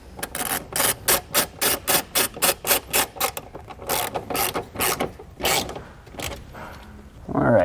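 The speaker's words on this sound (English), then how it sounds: "start tightening it down with our nut." A ratchet wrench tightens a nut onto a battery terminal post while installing a vehicle management system, giving a rapid series of close, crisp clicking strokes in bursts with short pauses between them.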